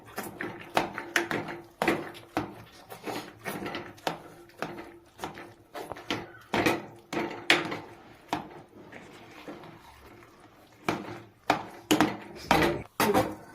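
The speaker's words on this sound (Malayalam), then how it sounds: "നമ്മുടെ കപ്പയൊന്ന് കുത്തി ഉടയ്ക്കാൻ പോവാണ്" Boiled cassava is mashed with repeated dull thuds in an uneven rhythm, close up, with a brief pause before the pounding resumes.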